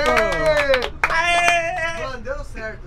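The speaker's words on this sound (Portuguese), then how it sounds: "uma salva de palmas" A few sharp hand claps from friends celebrating after getting a hookah lit inside a motorhome, the close-up smacks mixed under loud, excited voices talking and shouting over them.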